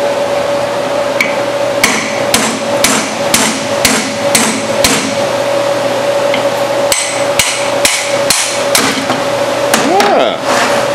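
A hammer knocks a part out during a Chevy 350 transmission rebuild in a transmission shop: a dozen or so sharp, ringing metal blows in uneven clusters over a steady background hum.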